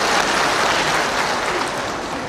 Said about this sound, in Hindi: एक बार जोरदार ताली से आपका भी अभिनंदन।